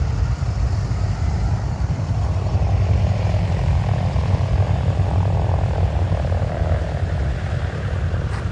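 An L-39 Albatros jet trainer taxis in at the Oshkosh airshow, its engine giving a loud, steady roar that holds level throughout with no voices.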